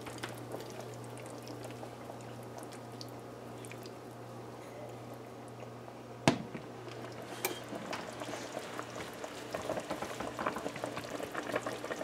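A pot of snapper fish stew bubbles at a soft, steady boil with a quiet hum beneath. A single sharp knock or clink comes midway, then the bubbling grows a bit livelier. No one speaks.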